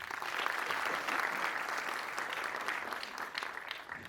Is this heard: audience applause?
yes